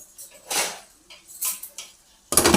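A metal lid set onto a cooking pot of bitter gourd curry on a home stove, a few light clanks and scrapes spaced apart, then a brighter final clatter as it settles.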